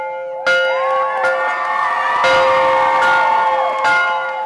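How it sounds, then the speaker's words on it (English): A victory bell rings after a Ravenwood high school playoff football win, clanging loud and close in repeated strikes whose harmonic tones ring out and overlap, with faint crowd noise beneath. "Another game, another victory bell for Ravenwood."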